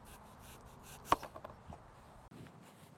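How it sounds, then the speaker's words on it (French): A knife slices the top off an apple on a cutting board, a single crisp cut with a few softer follow-up scrapes, close and fairly quiet with no talking. "Ce qu'on va commencer par faire, c'est couper juste un peu sur le dessus."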